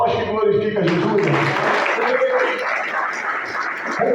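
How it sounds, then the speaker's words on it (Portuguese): Applause swells in a church service, a steady wash of clapping from the congregation that follows a speaking voice and continues evenly to the end. "Palmas que glorificam Jesus."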